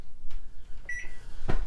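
A microwave oven runs as a countdown timer with a low hum, broken by a few soft clicks and one short, clear tonal beep partway through.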